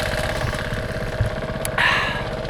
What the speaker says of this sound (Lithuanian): Užvedė kaip valtį motorinę.